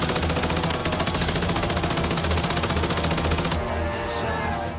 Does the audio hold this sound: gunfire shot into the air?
yes